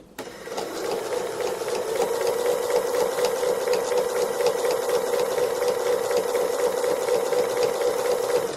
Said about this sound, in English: try and stitch on the right hand side of your embroidery first